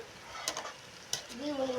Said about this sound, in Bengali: অনবরত একটু নেড়ে চেড়ে নিল